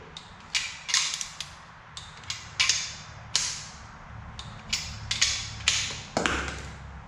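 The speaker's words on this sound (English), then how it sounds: "Set this at 15 foot-pounds. Start with the inside bolts." Torque wrench tightening engine bolts to 15 foot-pounds on an LQ9 engine rebuild, a series of quiet sharp clicks and creaks at an uneven pace, close and without talking.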